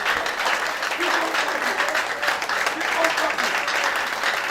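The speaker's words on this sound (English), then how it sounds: "as we are standing ovation, jam our hand, keep on clapping" Dense, steady applause from a large audience giving a standing ovation at a leadership summit, continuous sustained clapping filling the room.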